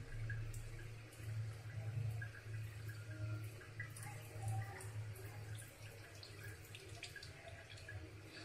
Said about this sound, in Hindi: चावल से ये वाला पानी निकाल देते हैं।